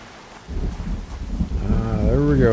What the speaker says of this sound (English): First thunder crack.